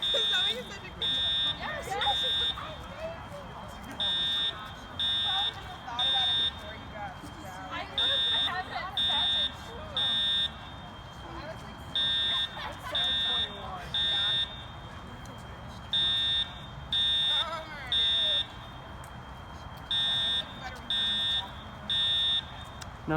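Edwards Integrity fire alarm sounding a code 3 temporal pattern during a fire drill, a high electronic tone pulsing in repeated groups of three, with people talking underneath.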